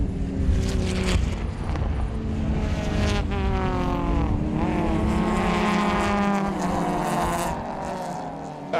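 Racing cars, among them a Volvo, scream past on a circuit at the start of a race, engines wailing with rising and falling pitch sweeps as several cars pass close, loud and continuous with wind buffeting.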